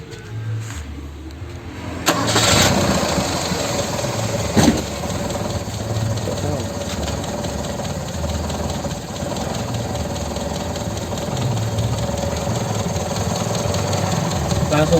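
A Toyota Corolla KE20 engine, in running order and not smoking, cranks briefly, catches, then settles into a steady, loud mid-pitched idle that carries on to the end.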